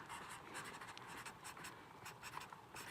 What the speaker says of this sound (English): I'm just going to write that now